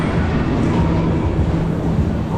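A small fairground ride train at an Easter funfair in Great Yarmouth, a steady loud rumble with low mechanical hum filling the whole moment, close by with general fair noise underneath.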